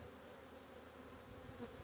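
Honey bees drone in a low, continuous buzz during a spring hive inspection, a soft, steady hum close by with no voices.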